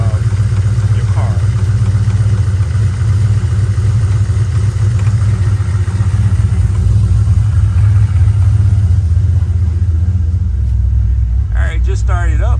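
A Ford Mustang engine idles steadily just after start-up, a deep continuous low rumble running throughout, with a brief voice near the end.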